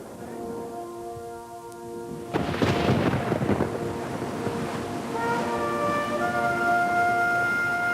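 Heavy rain hisses steadily while a loud thunderclap crashes and rumbles for several seconds, with a low horn-like tone sounding before and after.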